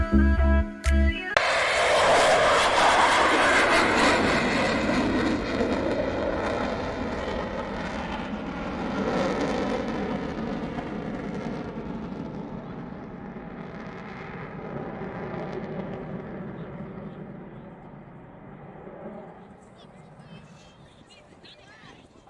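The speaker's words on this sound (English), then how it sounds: "you can tell your grandchildren you've heard the Vulcan howl" An Avro Vulcan military jet bomber roars loudly overhead, its engines rising into a sustained, sweeping howl that peaks early then slowly fades into the distance over some twenty seconds, with no talk.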